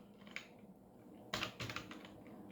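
Typing a command on a computer keyboard during Ubuntu setup: quick, close clicking keystrokes in a light patter, then a denser, louder burst of keys partway through, with no talking.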